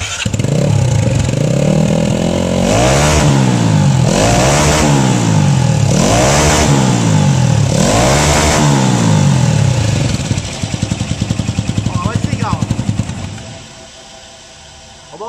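A turbocharged Honda CB 300 motorcycle fitted with a priority valve revs hard in about five rising-and-falling bursts, loud and close, then settles to a quieter idle for the last few seconds.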